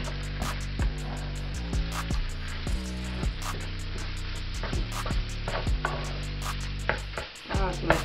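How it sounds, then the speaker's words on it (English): Shrimp fried rice sizzling in a hot pan as it is stirred and tossed, with a steady loud frying hiss broken by repeated scraping and clattering strokes of the utensil. "Let's just mix everything together now"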